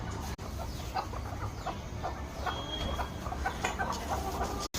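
Chickens clucking repeatedly nearby in a farmyard, including a native rooster, with scattered bird calls and a steady low background hum.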